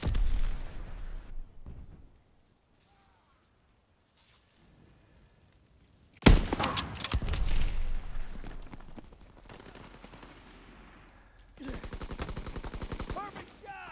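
Gunfire in Call of Duty WW2 comes as a sharp, loud crack, then a later rapid rattling burst, with game ambience and a voice between the shots.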